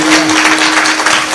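Audience applause at a Marathi comedy kirtan: dense, steady clapping from a crowd filling the whole short stretch, loud and close, with a faint held tone beneath.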